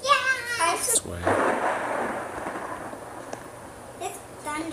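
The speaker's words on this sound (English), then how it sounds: "It's thunder." Thunder rolling through a Minecraft Pocket Edition world, a broad rumbling crash fading over several seconds while someone talks before and after it.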